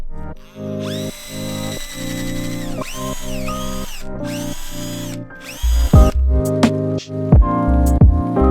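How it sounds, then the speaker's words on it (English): Cordless drill spinning a sanding disc against an aluminum wheel of a Mercedes-Benz 190E W201 to grind off curb rash, with whining motor tones rising and falling over repeated passes and harsher grinding bursts toward the end. "to remove them I will try a sanding disc on a cordless drill"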